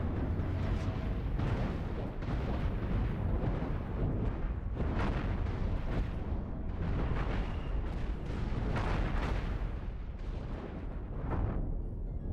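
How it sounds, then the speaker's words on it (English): Missiles launching repeatedly from a ship in the space game Cosmoteer, a rapid stream of booming, explosive bursts that overlap into a loud, continuous barrage. "Just want to see if these missiles constantly fire and if they're powered"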